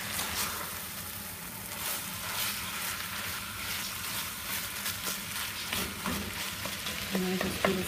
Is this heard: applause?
no